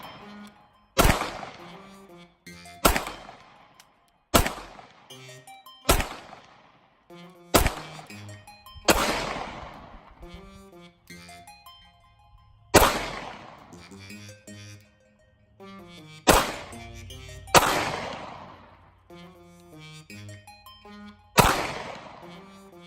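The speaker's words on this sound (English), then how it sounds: "SIG 365, that trigger is very different, so John pulled that first one" Pistol shots from a Glock 48 and a SIG 365 ring out at a shooting range, about ten sharp loud reports spaced a second or two apart, each with a short decaying echo.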